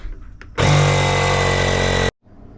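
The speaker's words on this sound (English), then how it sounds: "So chiseling this" A power chisel hammers out material around a boiler, one loud continuous rattling burst lasting about a second and a half, close up, then cutting off abruptly.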